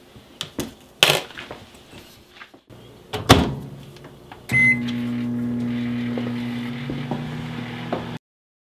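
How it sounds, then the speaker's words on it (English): Clicks and a door thump lead into a microwave oven starting up to heat a chocolate mug cake, its steady electric hum running for several seconds before stopping. "I am going to go back to the microwave for about 30 seconds."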